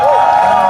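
A protest crowd against police in schools briefly cheering and clapping together, a short loud burst of shouts and applause close by.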